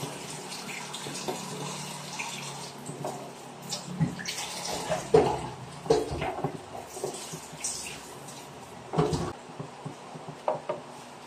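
Cabbage washed under a running kitchen tap, water splashing and trickling irregularly with leaves being handled and occasional knocks of dishes, close and fairly quiet with no talking.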